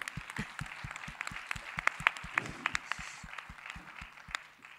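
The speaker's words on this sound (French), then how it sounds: "Et un petit applaudissement." Sparse clapping follows a conference talk, with a few distinct hands beating in an uneven rhythm rather than a full crowd, fairly quiet and thinning out toward the end.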